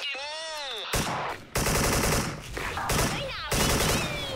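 AK74 rifles fire in the online shooter Special Force, with sharp, loud bursts of rapid automatic fire separated by short pauses. Brief whooshing effects come before them, and a voice is faintly heard alongside.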